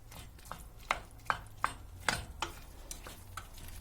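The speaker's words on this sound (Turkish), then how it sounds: "Domatesleri sarımsağını da ekliyorum. Bir 5 dakika da bundan kavrulacak." Tomatoes and garlic sauté in a pan beside soft zucchini, a low sizzle running under a few sharp clinks and scrapes from a spoon stirring at a slow, uneven rhythm.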